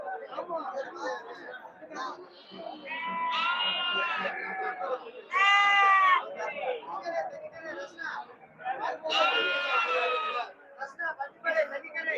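Goats bleat loudly and repeatedly at the Ettayapuram Friday goat market, several long close calls rising over the busy chatter of traders.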